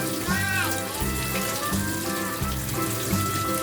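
Freshly picked mulberries are washed under running water, giving a continuous splashing trickle close by while children and an adult talk and chatter over it.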